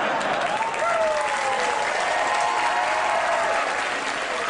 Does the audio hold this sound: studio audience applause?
yes